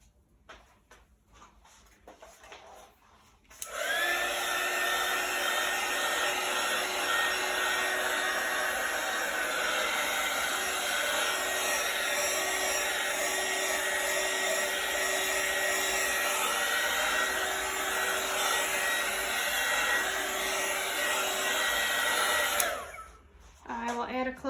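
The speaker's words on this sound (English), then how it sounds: "All right, I'm gonna hit this with heat one more time." A heat gun blows over an acrylic pour painting with a colorful double-dip technique. Its steady, loud, close whirring roar of fan and airflow runs unbroken for about nineteen seconds, with quiet room sound before it starts and after it stops.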